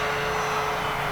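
A large-scale RC Cessna 182 model airplane comes in to land, its engine giving a steady, fairly loud droning whine throughout this short moment with no talking.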